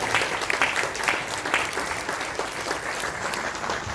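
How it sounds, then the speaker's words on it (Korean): Sustained applause from an audience at an academic seminar and photo exhibition, a continuous crowd of hands clapping with a few distinct sharper claps near the front. "다시 한번 큰 박수 부탁드립니다."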